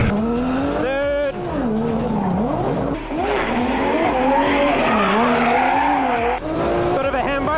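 Nissan R34 Skyline drift car on the Bay Park race track at a drifting championship, engine roaring loud and continuous with tires skidding and squealing through a slide, heard from inside the car with commentary over it.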